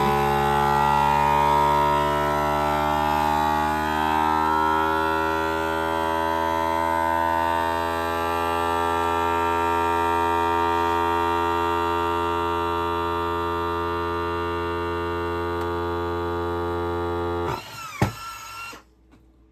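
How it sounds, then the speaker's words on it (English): A FoodSaver vacuum sealer's electric motor drones with a strong buzzing hum for most of the time, then cuts off abruptly near the end with a brief click. "This is a Food Saver vacuum sealer. Just set that on there, and then let it do its job."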